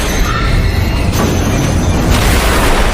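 A film scene in which an elevator car plunges down its shaft after the cable snaps. A loud, continuous, heavy rumbling crash roars throughout, with a few sharper impacts breaking through.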